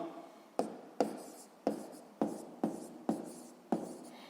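Pen writing in a notebook, with seven sharp strokes or taps at a fairly steady pace, each followed by a short scratchy scrawl, close and quiet.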